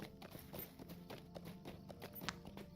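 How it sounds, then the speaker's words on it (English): Hooves of a chestnut horse in LOTRO, a quick, faint run of rhythmic clip-clops beneath a soft bed of game sound. "on every character I've ever played in LOTRO, I have my chestnut horse"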